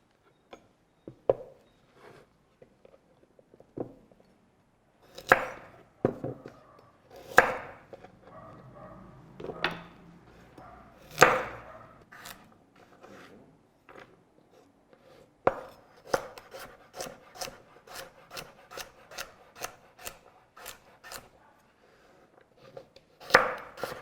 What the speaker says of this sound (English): The first thing we want to do is just get our vegetables chopped.